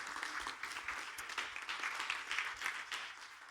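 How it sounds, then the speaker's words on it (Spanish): A church congregation applauds, giving a fairly faint burst of many hands clapping that rises and falls in waves for a few seconds with no voices over it. "¿Por qué no le das un fuerte aplauso a nuestro Dios?"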